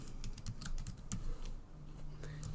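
Computer mouse or keys clicking in quick irregular bursts, close and fairly steady against a low background hum.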